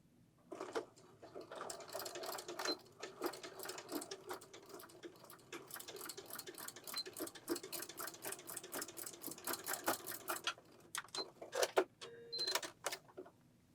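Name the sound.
sewing machine stitching ribbon into skirt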